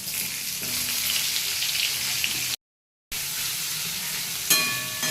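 Onions fry in a pan with a steady, close sizzle and crackle, briefly cut off partway through, then resuming with a clink near the end.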